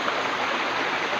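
Water is poured out for a pig, a steady close splashing rush with no break.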